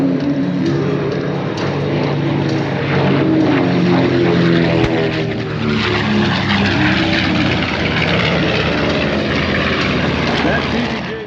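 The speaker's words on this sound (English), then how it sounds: "Hellcats flying low, coming in." Grumman F6F Hellcat propeller fighters flying low at the 2024 Wings Over Camarillo airshow, a loud, continuous piston-engine roar that swells slightly and holds steady throughout.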